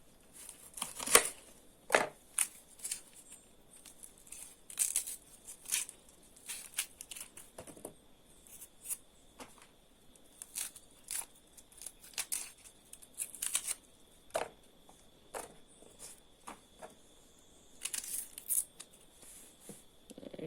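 A knife chopping onion on a board: sharp, irregular clicks and taps, some in quick clusters and others spaced out, fairly faint and close, with no voices.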